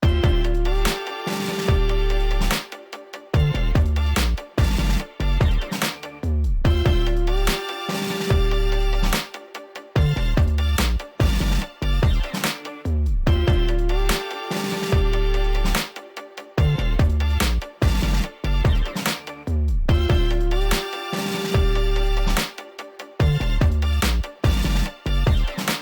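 A full beat from a sample pack combines organ, a looped sample and strings over deep bass and punchy drums, repeating in a steady four-bar cycle, loud and dense throughout.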